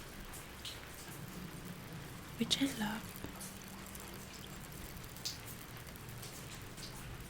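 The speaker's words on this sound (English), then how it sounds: "Right now it's raining season here in my country" Rain falls outside in the rainy season, making a soft, steady patter that stays faint beneath close, quiet whispered speech.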